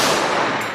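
A single shot from a stainless Colt Competition .45 ACP Series 70 pistol with a 5-inch barrel at a shooting range, a loud close blast whose roar fills the short moment and then decays.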